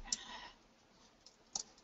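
Two crisp computer mouse clicks, close and quiet, separated by about a second and a half of near silence.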